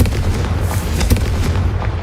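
A Confringo spell blast explodes in the Hogwarts Legacy video game, a loud booming burst with a rumbling low-end crackle filling the short moment.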